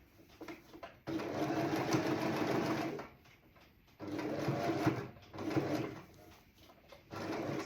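A sewing machine stitches a seam on a pair of shorts, running in loud steady bursts separated by short pauses as it back tacks.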